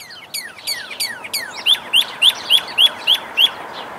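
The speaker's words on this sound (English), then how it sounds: "Where's the bird making all the noise?" Backyard bird calling alone at close range, a rapid run of sharp descending chirps followed by a steady series of about seven loud, evenly spaced tweets.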